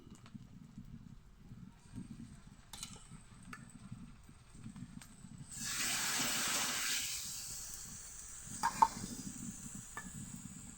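Ground spice paste hits a hot pan of small new potatoes for aloo dum, bursting into a loud sizzle that swells for a couple of seconds and then settles to a quieter fizz, with a sharp clink near the end.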